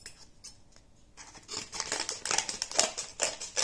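A clear plastic tissue-culture bag holding aquarium plants in agar gel is handled and torn open up close. It starts quiet, then rough crinkling and snipping-like crackles build in bursts.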